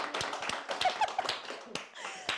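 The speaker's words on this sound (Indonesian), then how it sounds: "tepuk tangan dulu dong" Moms clap their hands at a Mother's Day celebration livestream, a brisk scatter of overlapping claps from a small group with faint squeaky voices in the background.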